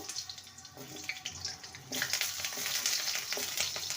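Long potato sticks fry in a little mustard oil in a wok, a steady close sizzle that swells louder and denser about halfway through, with no talking.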